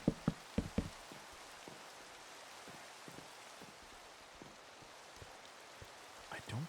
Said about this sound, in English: I don't think the dirt dampens the sound of rain